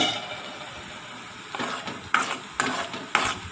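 Sliced onions sizzle and sauté in a pan for spinach thoran, a soft steady frying hiss broken by several sharp scrapes and clinks of a spoon stirring against the pan.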